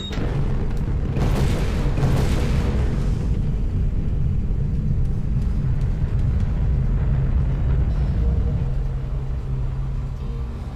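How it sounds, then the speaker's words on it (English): A building blown up in the game Serious Duke 3D, a loud booming explosion that rolls into a long, heavy rumble with crackling debris, sustained for several seconds. "go ahead and blow up the building"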